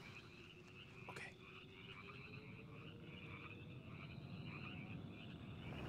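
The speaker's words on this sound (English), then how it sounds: "I would follow the noise of the frog." Frogs croak at night in a steady, layered chorus of repeating trills, with one brief, sharper call partway through, all at a moderate distance under a constant hiss of background noise.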